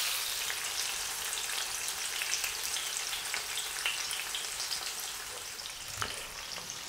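Cherry tomatoes fry in a pan with garlic and oil over lowered heat, a steady close crackling sizzle with scattered pops and a brief stir, no voices.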